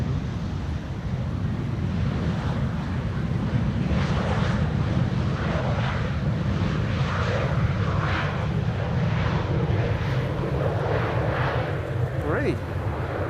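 A German Airways jet operating for KLM City Hopper arrives at Amsterdam Schiphol in windy conditions, a steady low engine roar with gusting wind buffeting the microphone, continuous and moderately distant across the whole stretch.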